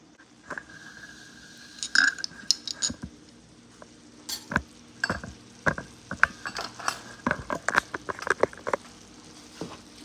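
A spoon scraping and clinking against a pot while mixing chili seasonings, including cayenne pepper, into a no-bean chili: irregular close taps and scrapes over a faint background hum, with no talking.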